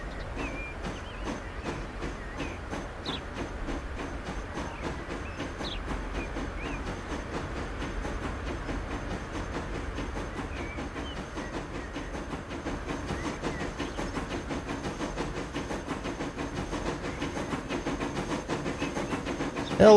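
A train runs steadily in the video game Transport Fever 2, giving a continuous rumbling clatter with rapid rhythmic clicks and a faint hiss, growing slightly louder toward the end.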